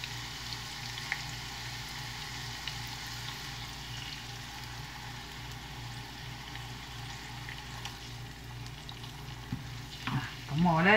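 Hot oil sizzles steadily as aromatics are stir-fried for traditional Chinese steamed tilapia, a constant close frying hiss with a faint low hum and a brief clatter near the end.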